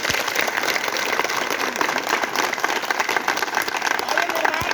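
An audience at a political rally for the Ghosi Lok Sabha seat breaks into dense, sustained clapping, a loud unbroken wash of many hands.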